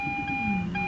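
Garrett ATPro metal detector sounds a steady, sustained high electronic tone over a buried find, close and clear, lasting about a second with no talking.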